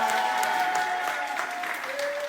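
A small group claps in a casual indoor gathering. The patter is light and uneven and mixes with background chatter and a faint tonal hum.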